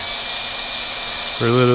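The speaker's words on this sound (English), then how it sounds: "just drilling through the rivet, which is cool" Drill boring through a rivet on the petcock of an XR80, a steady high whine that drops to a lower, harmonic-rich drone near the end, loud and close, with talking over it.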